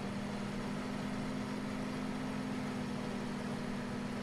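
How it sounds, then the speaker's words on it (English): A tractor engine in Farming Simulator 17 runs at a steady loud drone with a constant low hum and no change in pitch, heard alone without talk. "And this tractor is loud."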